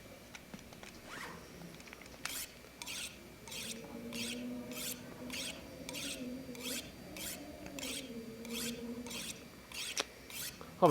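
A tool being sharpened in the video game The Long Dark makes a run of evenly spaced rasping strokes, about a dozen in a row, quiet and rhythmic, over a low droning background tone.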